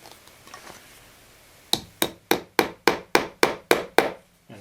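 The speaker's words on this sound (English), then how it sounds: "install a tack here at this end" Decorative upholstery nail tack being driven in with a run of nine sharp, evenly spaced hammer taps at close range, after a quiet lead-in of faint handling sounds.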